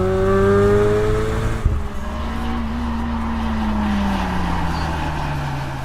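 Honda Civic Mugen RR engine with aggressive cams revving close by, a loud, coarse, continuous drone whose pitch sags and then holds steady, with no voices.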